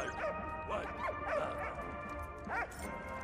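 A dog in the video game Valiant Hearts gives a few quick, high yipping barks, some clustered and one later, over a continuous game soundtrack.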